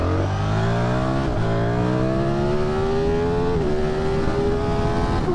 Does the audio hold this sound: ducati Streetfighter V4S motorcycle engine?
yes